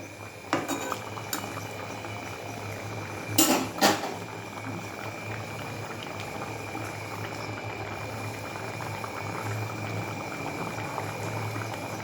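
Crab leg curry simmers in a pot on a gas stove, a steady low bubbling hiss running throughout, broken early by a few sharp clinks of a utensil against the pot.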